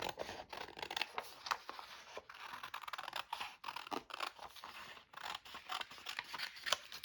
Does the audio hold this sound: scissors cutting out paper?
yes